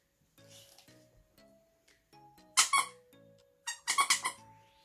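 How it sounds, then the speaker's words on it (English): A dog's squeaky duck toy squeaks in short bursts, first a few soft squeaks and then two louder clusters of rapid squeaks, close up in a quiet room. "Another little squeaky toy for him to play with."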